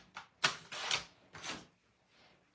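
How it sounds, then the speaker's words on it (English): A piece of cardstock, 3 1/4 by 4 1/2 inches, is cut for card making. Several short, quiet scraping swipes come in quick succession, close by, with pauses between them. "So I'm going to just cut a piece."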